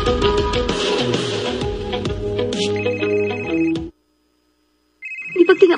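Mobile phone ringtone for an incoming call in a radio drama: a loud melodic ringing tune plays for about four seconds, cuts to silence, then starts again.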